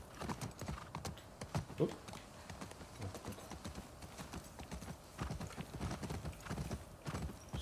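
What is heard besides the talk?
horse hooves clip-clopping in a video game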